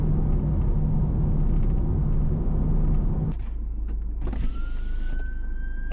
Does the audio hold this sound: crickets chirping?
no